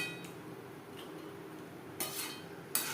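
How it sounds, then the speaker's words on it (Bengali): Catla fish pieces and fish head being stirred into gravy in a pan, a low steady simmer with a few soft clinks of a spoon against the pan near the end. "গ্রেভির সাথে মাছ ও মাছের মাথা বেশ ভালো করে মিক্স করে দেব"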